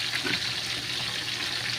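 Oil sizzles and crackles steadily in a pan as galunggong fish fries, close and continuous, with no talking.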